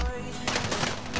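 Gunfire in the Warzone battle royale game, a burst of rapid shots kicking in partway through, fairly close and loud over a dense backdrop of game noise.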